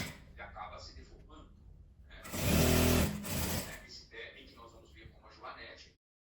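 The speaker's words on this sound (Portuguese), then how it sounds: "Eu vou abrir e vou começar a pregar ele no jeans, um no outro." A sewing machine stitches two pieces of jeans denim together in a single loud burst of about a second, with a person talking before and after it.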